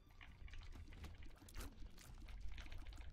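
The holy water item in The Binding of Isaac sets off a quiet, splashy pouring of liquid, a continuous soft wash of sound heard alone without talk.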